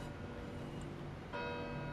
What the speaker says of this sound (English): Some bells.